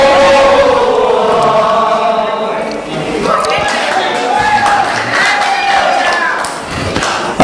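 A protesting crowd disrupts a Stop Co-Governance event in Orewa, a dense, loud, continuous wash of shouting and chanting voices with scattered thumps throughout.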